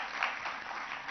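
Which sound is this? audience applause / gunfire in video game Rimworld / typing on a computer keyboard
audience applause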